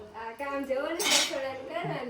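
Dishes and metal utensils clink and clatter as they are washed by hand at home, in quick, irregular knocks and scrapes, with a voice faintly in the background.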